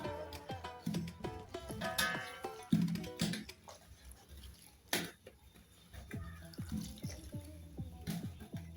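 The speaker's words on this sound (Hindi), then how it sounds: "इसमें थोड़ा थोड़ा पानी डालते रहें और इसे अच्छे से गूंथ लें।" Water trickles and splashes in small additions into rice flour as dough is kneaded by hand, with soft wet slaps and drips recurring close up throughout, no talking.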